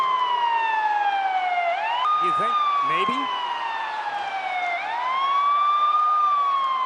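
A wailing ambulance siren sweeps slowly up and down at a televised wrestling event, loud and steady throughout, with brief voices talking over it partway through.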